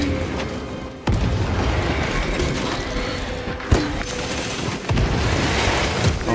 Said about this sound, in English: Nice, that was a good grenade.